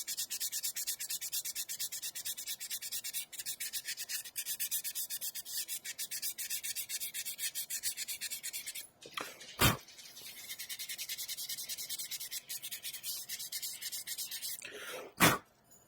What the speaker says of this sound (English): I'm just gonna finish up sanding those few little areas.